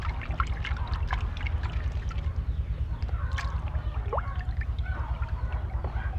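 Hand stirring of MKP and KNO3 fertilizer dissolving in water produces soft sloshing and trickling splashes in a steady rhythm over a low background hum, close and fairly quiet.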